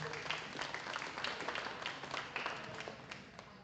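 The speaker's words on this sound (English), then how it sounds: "give all these individuals in the senior class and everybody that came to the show today a round of applause" Audience applause at a spring livestock show, a steady wash of many hands clapping throughout at moderate level, with scattered louder claps standing out.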